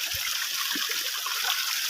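Cold, clean mountain water trickles and splashes in a steady, close, continuous wash with no voices.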